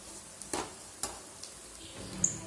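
Garam masala and chilli powder get mixed into egg noodles in a pan with quiet, sparse spoon scrapes and taps, a few distinct strokes over a soft background.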